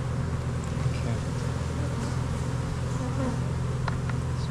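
Honeybees humming steadily at an open hive during almond pollination, a dense, continuous low drone close by, with a few faint clicks over it and no talk.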